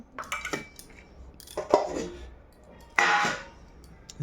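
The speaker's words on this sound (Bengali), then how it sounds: "পাপড় ভাজা দিয়ে দিলাম" Fried papad is served onto a plate with a few close clattering clinks of utensils and dishware, with brief crisp rustles in between and a louder clang near the end.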